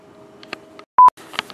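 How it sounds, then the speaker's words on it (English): A single loud electronic beep sounds abruptly, lasting a fraction of a second, between quieter stretches of faint background noise. "why is it beeping?"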